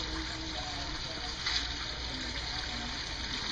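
Water rushes steadily down a gold prospecting sluice, a constant close-up splashing flow with one brief brighter splash midway.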